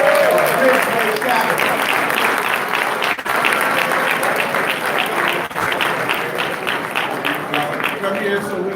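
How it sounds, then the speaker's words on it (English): A crowd at the Pittsburgh Courier Men of Excellence 2019 awards event applauds an awardee: a dense, loud, sustained wash of clapping that holds steady for about nine seconds with only brief dips. "And our first awardee, give him a round of applause, if you will, is Aaron Aldridge"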